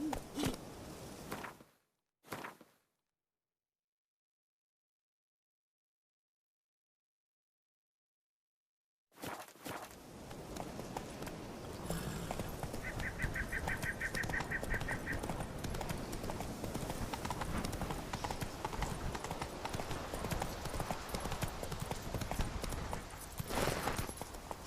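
Galloping horse hooves from The Witcher 3 come in after a short silence: a steady, close, rhythmic clip-clop that runs without pause, joined briefly by a faint insect-like buzz.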